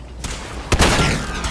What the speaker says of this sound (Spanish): es un disparo